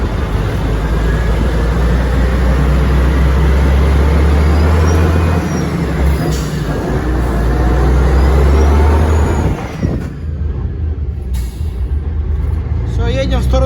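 A DAF dump truck drives along a road with a loud, steady low engine drone and road rumble, dropping off near the end, while someone talks over it.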